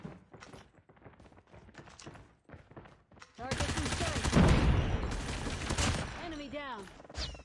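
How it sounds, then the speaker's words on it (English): Enemy gunfire in an online shooter match, a loud rapid burst with a zappy, laser-like character that follows quieter footsteps and movement and then tails off into a few scattered shots. "what the hell is that guy using, bro? Sound like a laser gun."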